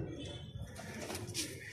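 Many pigeons coo together in a loft, a dense, steady murmur of low throaty calls that continues without a break throughout.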